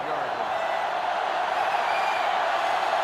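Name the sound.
stadium crowd noise in NCAA Football 2005 video game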